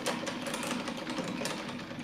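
A lathe turns steadily while machining a bearing race for a desktop gyroscope, giving a continuous dense whir with a rapid fine chatter and a few brief louder scrapes, close and with no talk.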